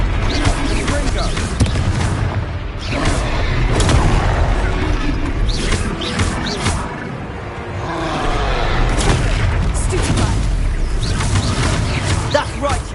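Confringo blasting spells going off in a Harry Potter video game battle, a string of loud booming explosions layered with dense combat noise and voices over roughly thirteen seconds.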